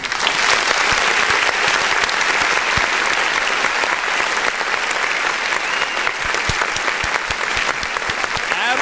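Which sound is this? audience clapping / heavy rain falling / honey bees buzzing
audience clapping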